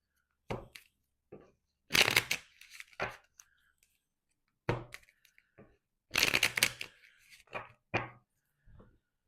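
Tarot-style numerology cards shuffled and drawn by hand, with bursts of riffling and flicking paper slaps separated by short pauses, close and moderately loud with no talking.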